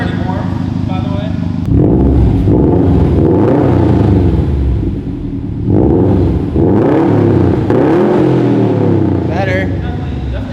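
A warm Subaru STI Type RA fitted with a Magnaflow catback exhaust, running loud and close with a deep rumbling idle and throaty rises in revs, while people talk over it.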